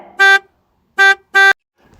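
A truck horn sounds three short, loud honks, one alone and then two in quick succession, with near silence between them.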